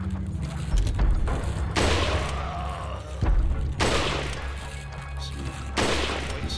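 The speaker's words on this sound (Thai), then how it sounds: "เอาสไนเปอร์ยิงมัน" Sniper rifle shots in Resident Evil 4 land as loud, sharp cracks spaced about two seconds apart. Each one rings out with a broad, noisy tail, and faint mechanical clicks sit between the shots.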